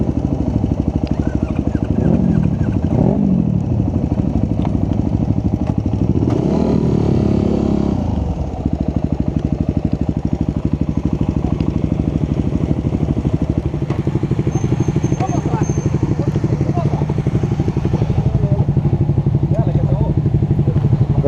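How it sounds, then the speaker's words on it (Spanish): A motorcycle engine roars loud and close for the whole stretch, with rising and falling revs from a throttle stuck open during a wheelie, while people shout and talk over it. "Se le quedó pegado el acelerador y soltó el clutch."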